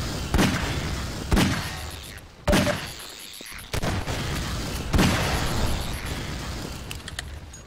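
Gunshots from the game Half-Life 2 boom out in five sharp, loud reports spaced about a second apart, each followed by a brief noisy tail.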